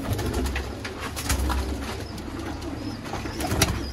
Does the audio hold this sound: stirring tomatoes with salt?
no